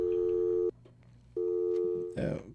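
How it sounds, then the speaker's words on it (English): Telephone busy signal on a phone line: a steady electronic tone in two long bursts separated by a short gap, loud and close, ending with a brief rustle. "I don't know what's going on with the phone."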